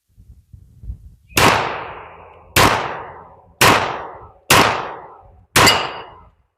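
Five sharp, loud pistol shots at a 15-yard target in a World War II-era marksmanship qualification, spaced about a second apart, each with a decaying echo tail and no talking.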